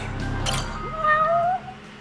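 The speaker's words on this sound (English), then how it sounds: "There's no pigeon, that's a cat." A cat meows inside the video game Judgment, one drawn-out, rising and falling call over steady game background ambience, moderately close and clear.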